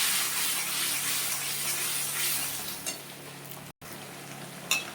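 Turmeric and spices are stirred in a hot pan for a Bengali fish curry with new potatoes, a steady close sizzle with scraping stirs, a brief cut in the sound, then sharper clatters near the end.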